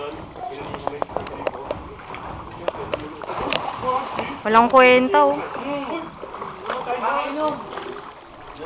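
Children jump one after another into swimming water, with repeated splashes and splatters rising above a steady watery background while people talk and call out throughout.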